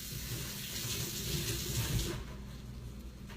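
Tap water runs steadily into a kitchen sink as parsley is rinsed for beef bone broth, a close, even splashing hiss that thins out near the end.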